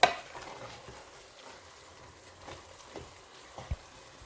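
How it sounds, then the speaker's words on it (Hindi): Lentils and meat being stirred and mashed together for haleem in a pot: quiet, sparse scraping and soft taps of a spoon, with a few sharper clinks against the cookware. "यहाँ पे थोड़ी सी मेहनत करनी पड़ती है इनको, जो लेंटल्स हैं और मीट को आपस में मिक्स करने के लिए"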